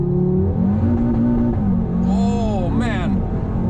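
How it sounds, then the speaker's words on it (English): A tuned 612-horsepower Audi TT RS MTM launches under launch control at full throttle, a loud, close engine drone climbing in pitch, with voices over it. "We're going to do a launch control. So let's put it in S, and the traction control in sport. All right, full throttle."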